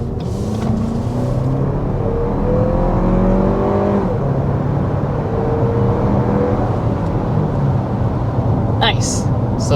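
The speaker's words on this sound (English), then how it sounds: "we're going to go ahead and start with a hard acceleration" A Lexus NX 350 F-Sport accelerates hard from a standstill to 60 mph, its engine note rising through the gears in steady sweeps, heard from inside the cabin as a loud, continuous drone.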